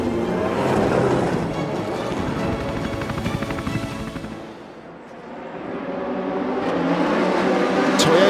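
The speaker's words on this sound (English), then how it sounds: "We have started the formation lap for the 6 Hours of Spa." Endurance race cars and prototypes rolling through the formation lap at Spa-Francorchamps, a dense, roaring mix of engines that swells, dips midway, then builds again as the field passes.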